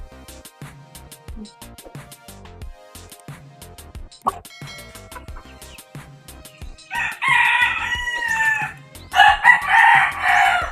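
A rooster, father of two chicks, gives two loud, close crows near the end, after a stretch of quieter scattered clucks and tapping.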